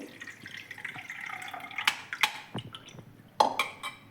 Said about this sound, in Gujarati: સૌથી પહેલાં આપણે લીંબુ શરબતને ગાળી લઈએ